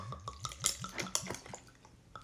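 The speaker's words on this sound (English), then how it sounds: "We're gonna pour in a little bit of Tito's." Tito's vodka poured into a mixed drink: a quick run of short, gurgling glugs and splashes close by, with faint sound behind it.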